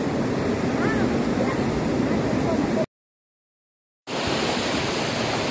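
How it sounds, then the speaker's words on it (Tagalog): Panas Falls roars as a steady, loud broadband rush of falling water, cut by a silent gap of about a second before the rush resumes. "welcome to Panas Falls"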